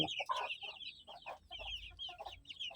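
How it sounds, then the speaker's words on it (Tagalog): Small clucks and chirps from a flock of 45-day-old broiler chickens kept loose in an open pen, soft repeated calls scattered across the moment with a low rumble underneath. "itong alagang manok na 45 days"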